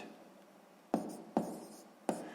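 Pen or chalk strokes while writing a math expression for a sixth-grade lesson: three sharp, separate taps at a moderate, quiet level, with no talking.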